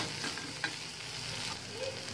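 Masala idli mixture with fresh coriander being stirred in a hot pan, a steady soft scraping and light sizzle throughout, one sharper clink near the start, no voices.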